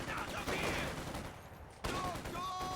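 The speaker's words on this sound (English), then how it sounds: "Contact! Small arms fire!" A fusillade of small arms fire rattles through a military strategy video game battle, dense overlapping shots filling the mix with a sharp burst near the end.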